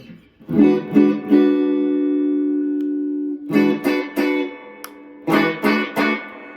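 Electric guitar notes from a Telecaster ring out through effects, a few plucked chords and one long sustained tone, then more short strummed bursts after a pause.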